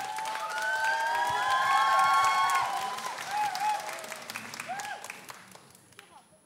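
Audience applause with some cheering at a live talk concert, loud and sustained for a few seconds before tapering off, with voices mixed in under the clapping.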